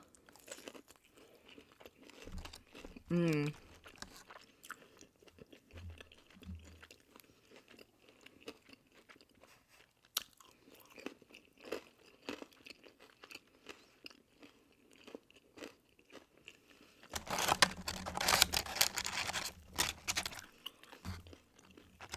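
Garlic parmesan WingStop boneless wings being chewed close to the microphone, soft wet crunching and biting in scattered bursts, with a louder rustling, crinkling stretch near the end.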